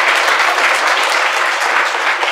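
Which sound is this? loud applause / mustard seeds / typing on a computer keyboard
loud applause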